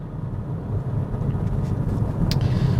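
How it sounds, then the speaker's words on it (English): Steady low tire and road roar with a little wind rush inside a moving 2022 Hyundai Kona Electric E-Plus, continuous and even, with no engine sound and no talk. "Just the tire sounds and maybe some wind a little bit."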